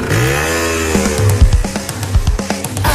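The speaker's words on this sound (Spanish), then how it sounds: "¡Calienta motores la moto, Jerito!" A motorbike engine revs in rising, whining strokes, then breaks into rough, uneven bursts of throttle that sit close and loud, with no one talking over it.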